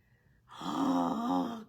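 A storyteller's voice imitates a dinosaur snoring at bedtime. It is a single drawn-out, low, rumbling snore that swells and then fades after a brief quiet start.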